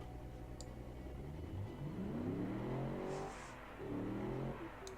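An 80's-style car engine in the BeamNG driving game idles and then revs in rising sweeps, faint and low, settling briefly before climbing again.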